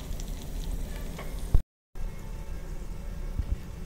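A tadka of chillies sizzling in hot oil in a pan for chole, a steady close crackling hiss that cuts out briefly and then resumes, with a light knock or two.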